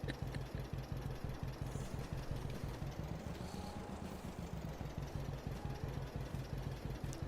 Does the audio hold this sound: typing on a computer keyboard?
no